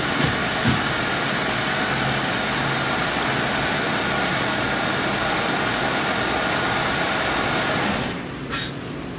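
A 2.4-liter Pontiac G6 engine idles steadily up close, a constant broadband rumble and whir that drops away near the end as the car is shut off.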